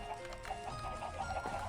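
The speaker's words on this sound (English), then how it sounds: "I hear the chickens clucking" Minecraft chickens clucking in the game, a short run of repeated soft clucks over a faint steady background, no talking.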